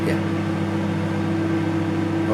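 Microwave oven running with Pepsi boiling inside, a steady close electrical hum with a constant tonal whine and faint bubbling noise, alone.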